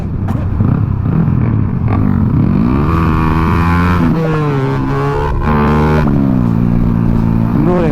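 A motorcycle engine runs close by while being ridden, its revs steadily rising and falling in a continuous loud drone with shifting pitch.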